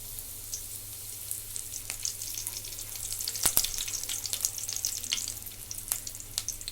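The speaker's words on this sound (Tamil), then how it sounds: "நல்லா சூடான உடனே ஒரு 3 சின்ன துண்டா பட்டை, 2 கிராம்பு, கொஞ்சமாக கருவேப்பிலை ஆட் பண்ணிக்கலாம்." Cinnamon pieces, cloves and curry leaves sizzle steadily in hot oil for spicy mutton fry, a close continuous crackle with scattered sharp pops and no voices.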